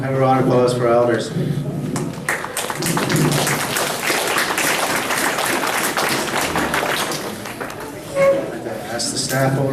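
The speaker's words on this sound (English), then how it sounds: "have a round of applause for our elders" Applause from a crowd at a tribal quarterly meeting, a dense wash of clapping lasting several seconds, with people talking over it at the start and end.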